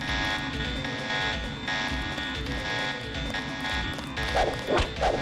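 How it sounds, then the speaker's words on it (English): Stacked steady alarm tones blare from Deus Ex: The Conspiracy on PlayStation 2, a loud continuous electronic buzz holding throughout, with a couple of short voiced bursts near the end. "I thought you went and hit the alarm that was already active"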